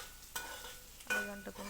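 Bitter gourd pieces fry in oil in a pan, with a couple of close scraping stirs and a soft sizzle between them.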